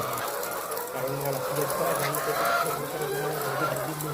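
Layer hens of the Egg 1000 breed on a poultry farm, clucking and calling steadily as a dense, close flock, with a voice speaking over the birds now and then.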